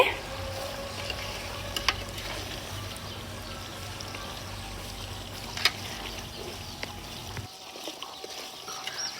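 Native chicken sizzles and fries steadily in a pan, a soft continuous crackle with occasional sharper pops and stirring, before the sizzle suddenly drops away near the end.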